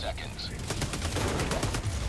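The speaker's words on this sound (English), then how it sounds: "he's like sitting there trying to shoot them with his assault rifle" Assault rifle fire in Helldivers 2 crackles in a quick automatic burst of evenly spaced shots, moderately loud amid other battle noise, with some talking mixed in.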